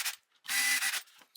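A screw is driven into a transmission cover plate in a short ratcheting mechanical burst with a brief whirr, followed by quieter clicks.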